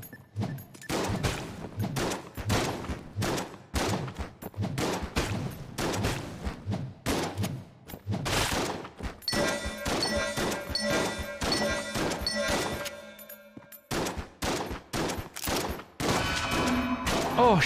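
Rapid bursts of shots from the Mine Flayer boss in the video game Enter the Gungeon, loud clustered impacts and crashes in quick irregular volleys, layered with tonal game effects and no speech.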